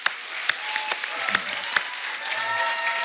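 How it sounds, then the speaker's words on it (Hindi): Studio audience on a comedy talk show applauding to welcome a guest, a close burst of clapping with sharp individual claps, moderately loud, with some faint voices mixed in. "आप सबकी जोरदार तालियों के बीच में स्वागत करना चाहूंगा"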